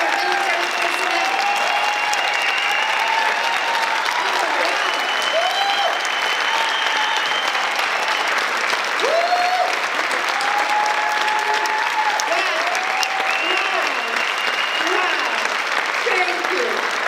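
Large audience applauding veterans and military personnel at a public event, loud continuous clapping and crowd noise sustained throughout, with voices mixed into the din.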